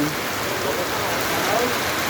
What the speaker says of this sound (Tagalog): Umuulan, malakas ang ulan.